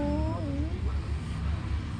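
A kitten meows two or three times in a row with high, drawn-out rising and falling cries, close by over a low steady background rumble.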